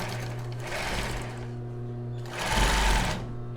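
Sewing machine running steadily as it stitches the two sides of a crossed-back base bra, with a mechanical hum that swells louder near the end, heard with no talking.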